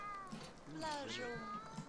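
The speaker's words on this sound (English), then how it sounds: "Why is this cat meowing?" A cat in the life-simulation game The Sims 2 gives a few drawn-out, wavering meows, fairly close and soft, heard over light game ambience.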